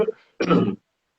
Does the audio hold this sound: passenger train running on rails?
no